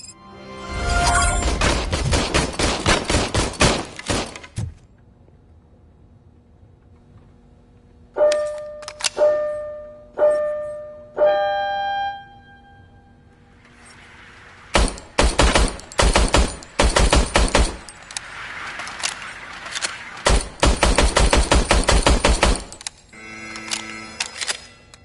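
Gunfire in the video game RoboCop: Rogue City: several loud, close bursts of rapid automatic shots, separated by quieter stretches and a few short tonal beeps, with no voices.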